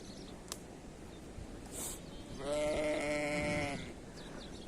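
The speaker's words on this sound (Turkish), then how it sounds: "Koyunları şimdi suya vurduk. Su içecekler." On a farm, a sheep lets out a loud, drawn-out bleat close by, rising above a steady murmur of outdoor ambience while the flock is being watered.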